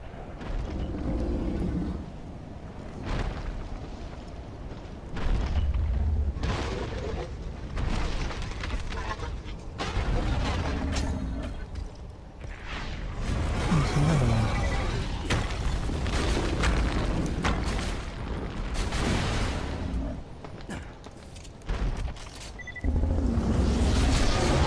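Rapid, heavy booming blasts from the Conference Call shotgun in Borderlands 2, fired again and again with dense, overlapping bursts and rumbling game effects throughout, loud and continuous.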